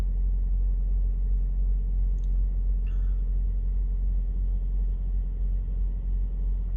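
A truck's engine rumbles low and steady at close range while the driver reverses it at an angle in a congested spot, with no voices and no backup beeps.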